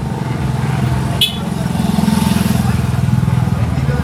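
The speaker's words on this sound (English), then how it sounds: "There's a little multi-cab." A multi-cab, a small utility vehicle, passing on a Philippine island street near a wet market, a close rumbling engine with a throbbing idle that swells as it nears, plus one brief sharp squeak or horn chirp.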